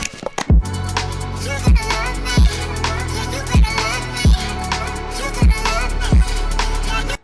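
Future Garage remix intro for a track, with a deep pulsing bass, sparse heavy kicks landing roughly every second, and a dense wash of atmospheric pads and textures running underneath, loud and full with no talking.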